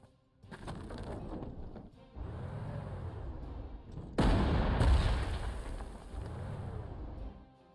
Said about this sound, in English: So we have some artillery, huh?